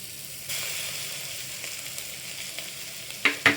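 Ginger garlic paste frying with onions in a pan for baby corn gravy, a soft steady sizzle that swells after a moment, with a couple of louder scraping stirs near the end.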